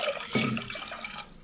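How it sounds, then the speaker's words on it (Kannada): Water pours from a glass into a pressure cooker, about two glasses' worth, a short splashing gush close by with a hollow metallic ring, no voices. "ಕುಕ್ಕರ್ಗೆ 2 ಗ್ಲಾಸ್ ಅಷ್ಟು ನೀರು ಹಾಕಿ"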